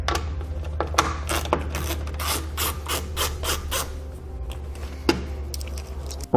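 Bolts being loosened with a ratchet on a 2018 car during a base plate install, heard as close, uneven bursts of clicking and rasping with a couple of sharper knocks.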